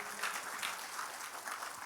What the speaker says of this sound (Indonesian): Kalau saudara mau tepuk tangan bagi Tuhan Yesus, tepuk tangan yang paling meriah.